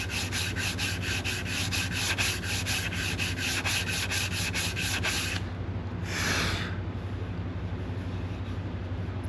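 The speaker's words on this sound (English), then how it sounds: "So we take our sanding tool," Rapid, rhythmic scratchy rubbing of a sanding tube in a fluted wood groove, close and steady for several seconds, then a pause and one slower stroke.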